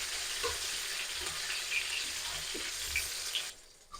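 Pointed gourd (potol) fries in hot oil with a soft, steady sizzle and occasional small pops, fairly quiet and continuous, easing off at the very end.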